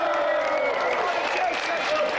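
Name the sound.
studio audience applause for a game show contestant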